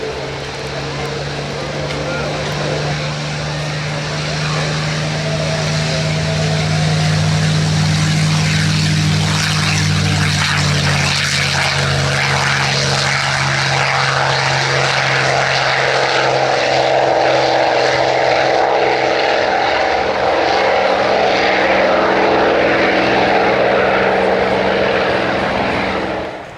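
A P-51D Mustang propeller fighter taking off at the Roissy Meaux airshow, its engine drone building to a loud, sustained roar as it passes, under a commentator's talk.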